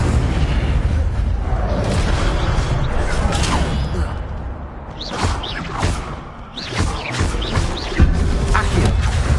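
Incendio, a fire spell, is cast in the Hogwarts Legacy video game with a booming whoosh of flame over dense game ambience, followed by several softer crackling bursts, with some voice in the mix.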